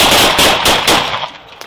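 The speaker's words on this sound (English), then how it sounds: "Shot fired!" Rapid burst of gunshots during a police encounter at a residence, several sharp, loud cracks fired in quick succession over under two seconds, then trailing off into quieter echoes.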